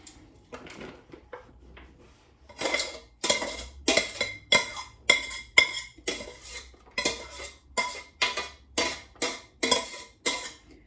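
Metal utensils repeatedly scrape and clink against a pan or dish while dividing leftover rice, in a steady rhythm, close up, with no talking.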